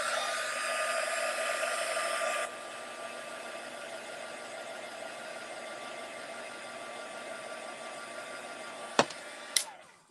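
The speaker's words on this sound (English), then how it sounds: "So let me just dry this real quick." Hair dryer blowing steadily on freshly painted posts of a painted chapel scene, a loud continuous whoosh that drops slightly in level partway through, with a couple of brief clicks near the end.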